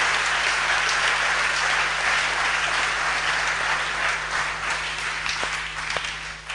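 A church congregation breaks into sustained applause, dense steady clapping from a large crowd that holds evenly throughout, with no speech over it.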